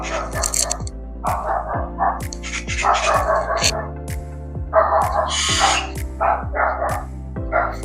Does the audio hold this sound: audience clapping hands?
no